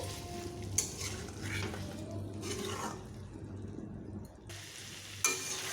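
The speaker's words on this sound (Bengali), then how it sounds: "বেশ ভালোভাবে আমি আলু পেঁপেগুলোকে মশলার সঙ্গে এইভাবে কষিয়ে নিচ্ছি" Papaya and potato pieces stir-fried with spices in a pan for a vegetarian dalna, steady sizzling with intermittent spatula scrapes and stirring clatter close by, no talking.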